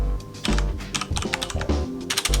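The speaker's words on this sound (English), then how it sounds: "Now this is where I want to start typing" Keys clatter on a computer keyboard in quick, uneven bursts of close, crisp clicks while a reply email is typed. No voices are heard.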